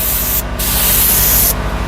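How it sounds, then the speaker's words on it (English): Two close, forceful hissing bursts from a detail spray gun spraying product on an Audi S5, one short and one longer, separated by a brief pause. "it's really spraying it really nicely out of the detail gun"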